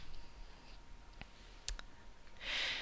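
A few faint, crisp mouse clicks sound on a computer running Convio's Walk Reports, with the main click isolated against quiet room tone, then a soft hiss of rustle.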